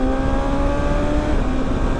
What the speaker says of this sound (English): Get the revs up, have that inline 4 screaming.